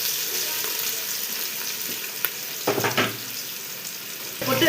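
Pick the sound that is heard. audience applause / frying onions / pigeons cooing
frying onions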